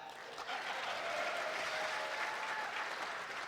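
Steady applause from a crowd, dense clapping that holds at an even level for a few seconds.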